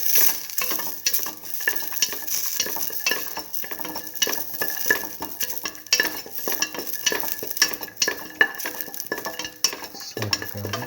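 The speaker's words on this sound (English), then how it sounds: "Keep on sauteing." Garlic and a potato split mung bean stew mixture sautéing in a pan, with a steady sizzle broken by repeated scrapes and clinks of a utensil stirring against the pot, close and continuous.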